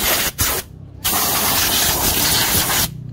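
An air compressor blows bursts of air to dry a freshly washed car, a loud broad hiss that cuts off briefly twice, then runs steadily before stopping near the end.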